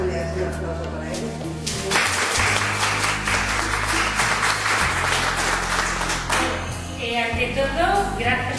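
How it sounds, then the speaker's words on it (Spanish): An audience claps and applauds for a reader at a Spanish-language literary reading event, steady sustained clapping filling the room for several seconds, with a voice heard faintly underneath. "un aplauso para ella"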